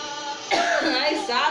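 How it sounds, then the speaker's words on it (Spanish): A short cough from a woman preaching during a Spanish-language church service, a sharp burst followed by a couple of throaty, rasping follow-ups, close and fairly loud. "Ahora me metí una tos aquí."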